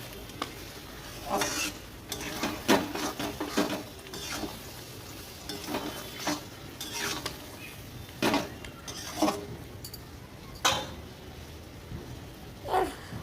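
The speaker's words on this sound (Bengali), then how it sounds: "আর একটু কষানো বাকি ছিল সেটাও কষিয়ে নিলাম" A spice mixture being sautéed in a pan: repeated scraping strokes of a spatula against the metal in an uneven rhythm over a soft, constant sizzle, close and clear.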